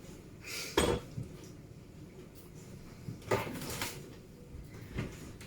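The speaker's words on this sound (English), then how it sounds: "I'm just using a fork to gently mix that through" A fork gently mixes banana cake batter of self-raising and plain flour in a bowl, giving a few soft scrapes and clinks against the bowl, spaced apart and fairly quiet.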